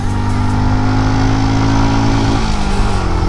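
A Benelli Imperiale 400 motorcycle engine revs hard in second gear, a loud, close, continuous throbbing drone that holds steady then shifts slightly near the end, with no voices.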